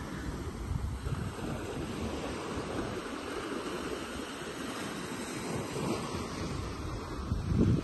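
Waves roll in steadily with gusting wind and microphone buffeting on the Caribbean shore at Playa de la 38, Playa del Carmen: a continuous, moderately loud wash of surf with no voices.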